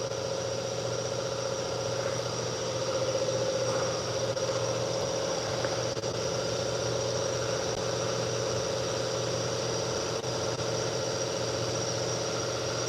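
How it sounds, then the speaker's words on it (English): An air compressor runs steadily nearby, a constant mechanical drone with a low hum and a mid-pitched whine that holds evenly throughout, with no talk. "I cannot handle that air compressor noise"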